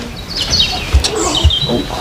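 Urban birds chirp and tweet in quick bright bursts, close by, with a couple of soft low thumps between the calls and no speech.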